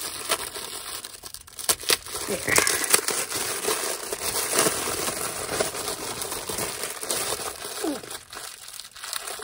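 Close crinkling and crackling of plastic, irregular bursts of rustle as a bag is handled and pulled open, with a brief voice.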